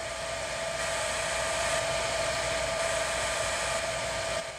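Hair dryer powered by a Bluetti EB3A power station, blowing with a steady, loud airy rush and high motor whine, close and continuous until it cuts off at the end, with no talk.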